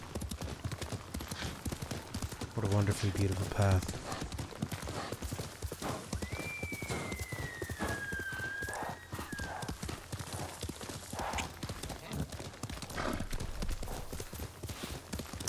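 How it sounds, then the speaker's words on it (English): Horse hooves clip-clopping along a path in Ghost of Tsushima, a steady rhythmic trot continuing through the whole stretch, with a brief whinny, some game music and someone talking over it. "See how the horse always goes to the side?"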